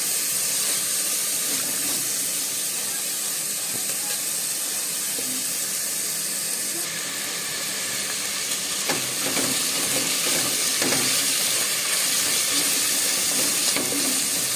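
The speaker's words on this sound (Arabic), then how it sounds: "ونقلي البصله بحيث ما تحمرش" Chopped onion softening gently in oil in a pan for stuffed eggplant, giving a steady, even sizzle and hiss throughout with faint crackles and no talk.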